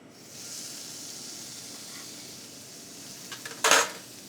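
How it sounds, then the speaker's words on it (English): Bone-in pork loin seasoned with salt and pepper sears in a hot pan, giving a steady close hiss throughout, then a brief metallic clatter and a louder burst of sizzle near the end. "Now we're going to start to sear this."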